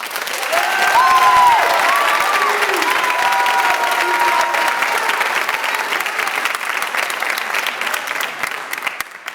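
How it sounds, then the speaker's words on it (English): An audience at a high school seniors honors night applauds the Walled Lake Central Jazz Band, with loud, sustained clapping filling the room and a few faint whistles mixed in. "let's please give a round of applause to our amazing Walled Lake Central Jazz Band"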